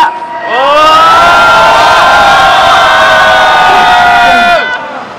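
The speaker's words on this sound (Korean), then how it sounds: "큰 함성 부탁드리겠습니다." Large crowd at an outdoor Incheon candlelight rally roars and cheers in one sustained, loud shout that swells and then fades after several seconds.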